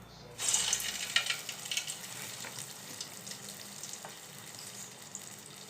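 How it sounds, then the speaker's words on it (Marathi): Dahi vada batter dropped into hot oil starts a loud, bright sizzle and bubbling that carries steadily through to the end, with no voices. "तर मी आता तेलामध्ये वडे सोडत आहे"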